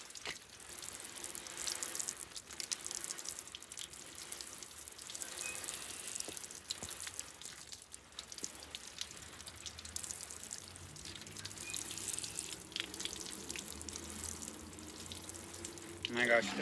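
Water sprinkles from a hose or watering can over potted herbs and plants on a patio, a continuous close splashing and pattering that runs for the whole stretch with small drips and shifts in flow.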